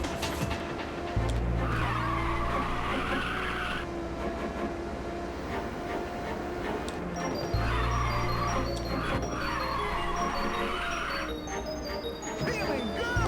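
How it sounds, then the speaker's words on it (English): Tires screech in long sustained bursts while a car drifts in Ridge Racer on the PSP, the squeal rising over a steady engine drone in two or three extended stretches. "You're hearing the screeching of the tires from the drifting is what you're hearing."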